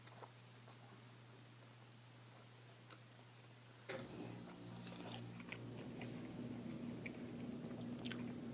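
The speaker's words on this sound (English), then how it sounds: "I just cut off just a little chunk here and take a little taste" Someone chews a bite of smoked beef short rib cooked low and slow on a modified Rec Tec pellet grill, with soft, steady mastication and faint moist crunches close to the mic, and no talking.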